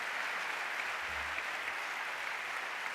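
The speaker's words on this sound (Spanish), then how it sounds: "te llevas este aplauso" Audience applause at a Medalla de Aragón ceremony, a hall full of people clapping steadily and evenly, a dense continuous patter with no voices over it.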